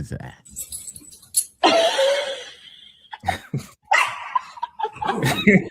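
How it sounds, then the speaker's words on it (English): Dogs in a video being watched, with short yips and barks heard amid lively talk and laughter from nearby people, the animal sounds brief and mixed under the voices. "coolest dogs ever"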